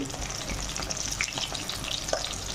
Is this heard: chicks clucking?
no